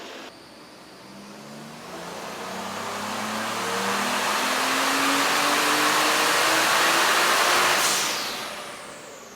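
A Toyota Crown JZS171 with a 1JZ VVTI engine revs on a dyno, the tone climbing steadily and growing loud over several seconds before backing off and fading, with tire roar from the rollers.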